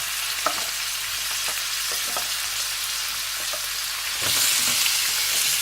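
Onions sizzle steadily in a hot pan, a continuous crackling hiss with occasional soft stirring clicks, growing slightly louder near the end.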